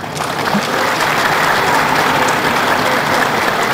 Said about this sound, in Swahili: tumkaribisheni sasa kwa makofi mengi sana